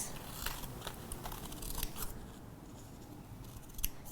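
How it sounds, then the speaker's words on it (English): Scissors trim a printed phrase out of paper for a Heidi Swapp lightbox, giving a quick series of soft, close snips and light paper rustles at low volume with no talking. "So then you just kind of trim out your desired phrase."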